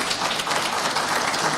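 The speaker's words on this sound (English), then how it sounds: "Let us give him a round of applause." An audience claps together at a formal civil society gathering, a dense, steady patter of many hands heard at moderate distance with no voices over it.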